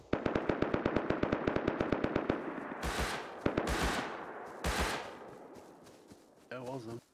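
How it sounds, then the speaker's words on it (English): Gunfire in the video game Rust: a rapid automatic burst of about fifteen evenly spaced shots, then several louder single blasts with short gaps between them, close and sharp, with a brief voice near the end. "Him shooting."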